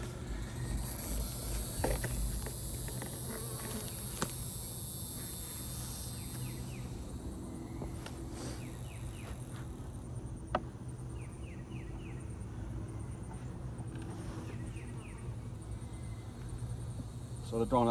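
Honeybees hum steadily in an open apiary hive frame during an inspection, a continuous close buzz with a few brief clicks and knocks of the frames.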